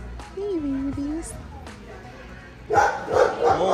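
Several dogs bark and yip in a pet shop selling teacup Yorkie puppies, the bursts loud and close near the end, with people talking over them and a soft whimpering tone earlier.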